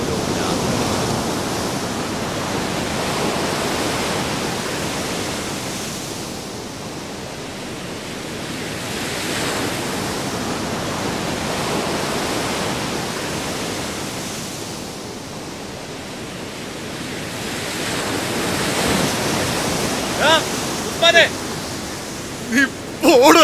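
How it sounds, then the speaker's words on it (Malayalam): A strong river current rushes and churns in a broad, steady roar of flowing water, swelling and easing slightly over time, with a few brief knocks or clatters near the end. "അവിടെ ഒഴുക്ക് കൂടുതലാ"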